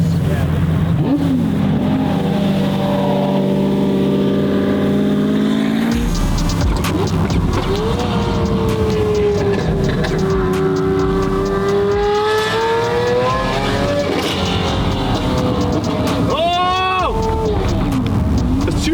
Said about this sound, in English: The Merc doesn't shoot flames, it pukes them.